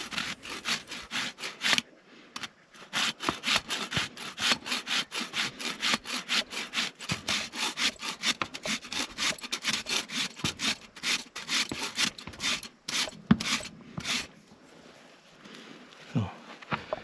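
Steady rasping strokes scrape back and forth across a horse's hoof in a quick, even rhythm, close and fairly loud, with short pauses between runs.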